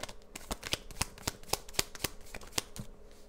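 Tarot cards are shuffled in a close, crisp riffle of sharp rapid flicks, about a dozen in quick succession, heard alone at moderate loudness.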